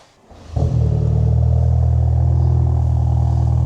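A BMW 330e hybrid with quad exhaust cranks briefly and catches, then settles into a loud, deep, throbbing idle from a rumbling exhaust close by.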